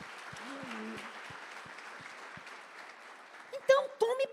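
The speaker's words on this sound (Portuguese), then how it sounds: "Vamos aplaudir a Jesus por isso." Steady applause from a church congregation during a Portuguese-language worship service, a broad continuous patter at moderate level with a few louder sharp sounds near the end.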